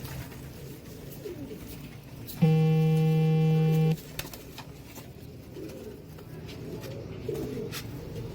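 Royal Teddy pigeons in a loft, with one loud, sustained low coo lasting over a second amid quieter background bird sounds.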